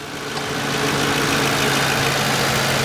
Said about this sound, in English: The vehicle's in immaculate running condition, super quiet.